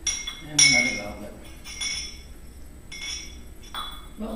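Kiln-fired glass goblets and a water glass clink now and then as they are handled, giving bright, thin chimes at moderate volume with soft handling noise and a voice speaking between them.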